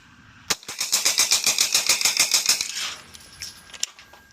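A burst of about twenty fast, evenly spaced gunshots from a NAK9R DIY-built pistol, loud and close, ending around three seconds in, followed by a couple of isolated clicks and a final sharp report.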